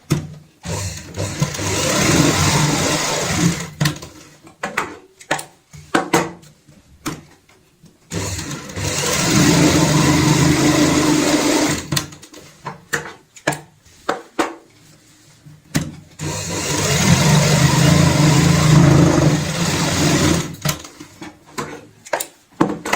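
A sewing machine stitches a fabric bag in three long, loud whirring runs, separated by stretches of short bursts, clicks and pauses as the fabric is repositioned.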